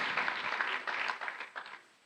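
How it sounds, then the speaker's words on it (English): Brief applause from an awards audience at a conference ceremony, a short burst of clapping that swells and then tapers off within about two seconds. "Maybe we could give him another round of applause now that he's up here"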